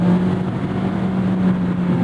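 A car engine hums in a steady, even drone for a couple of seconds, fairly loud and close, without any clear revving or voices.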